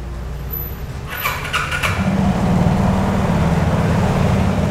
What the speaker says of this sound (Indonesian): Sudah menyala mesinnya. Dan dalam posisi idle aja, didiamkan gini sampai habis.